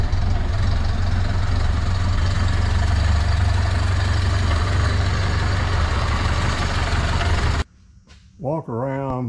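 A 1931 Ford Model A Sedan Delivery engine idles steadily and loudly up close with a deep low rumble for about eight seconds, then cuts to near quiet as a person begins talking.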